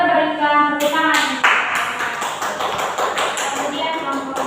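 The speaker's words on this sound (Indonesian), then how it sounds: "Oke, mari kita berikan tepuk tangan." A classroom of fourth-grade pupils in an Indonesian school claps together, a dense burst of hand claps starting just under a second in and continuing steadily to the end, with some voices mixed in.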